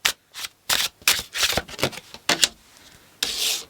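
A deck of tarot cards being shuffled in bursts of quick papery riffles and rubs, close and fairly loud, with short pauses between passes and no talking.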